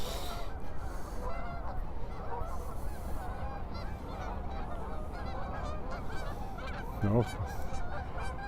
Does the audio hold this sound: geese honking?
yes